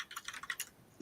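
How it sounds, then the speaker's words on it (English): Heavy typing on a mechanical keyboard, a rapid run of sharp, close, bright key clacks that thins out briefly before a few more strikes. "Who's typing so hard?"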